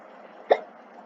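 A single sharp hiccup, close and clear, standing out briefly over a low steady background.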